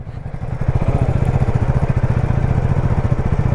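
A motorcycle engine runs close and loud with a steady, rapid throbbing pulse, revving slightly as the bike sets off from a house at the start of a Chennai to Munnar ride.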